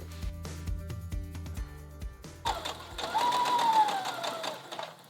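A home sewing machine runs a straight stitch along a placket on knit fabric, its rapid mechanical needle thumping steady and close, then shifting into a higher whirring run.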